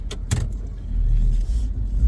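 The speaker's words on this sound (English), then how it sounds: "Go ahead and move this truck over there to the guys because they're going to use this welder now" A work truck on an ironworkers' jobsite is moved, with a low steady engine rumble rising and holding close by after a couple of short knocks and rattles at the start.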